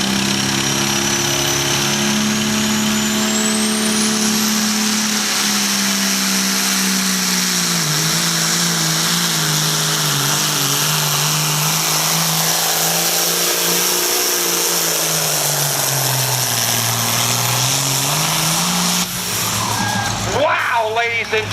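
A pulling tractor's engine roars loudly and continuously through a tractor pull run at a Libertytown, Maryland fire company event, its pitch rising and falling across the pass with an announcer's voice heard over it.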